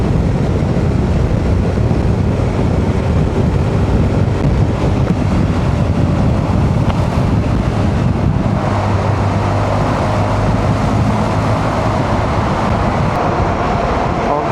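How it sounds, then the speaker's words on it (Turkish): Strong wind on the Mediterranean coast of Turkey roars and buffets steadily against the mic during a Honda ADV 350 scooter ride, a dense low rumble with no letup. "Allah çok rüzgar var ve beni korkutuyor."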